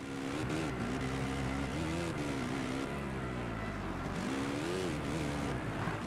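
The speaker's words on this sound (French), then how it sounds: "écouter le son du moteur de la moto" A motorcycle engine in the video game MXGP on PS4 hums steadily, its pitch rising and falling smoothly as it revs, with no talking.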